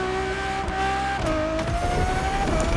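Ferrari supercar engine in The Crew Motorfest racing game, a loud, steady high-pitched howl that drops in pitch at a gear change and climbs again, with a touch of tyre squeal and no talk.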